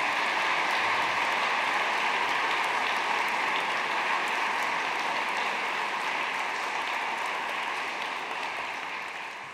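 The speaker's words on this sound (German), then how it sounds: "nicht einen kleinen, einen kräftigen Applaus." A hall full of people claps vigorously at a university academic ceremony, a dense, even roar of applause sustained for nearly ten seconds before beginning to fade slightly at the end, no voices heard.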